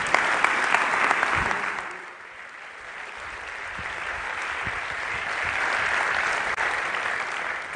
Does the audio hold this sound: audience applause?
yes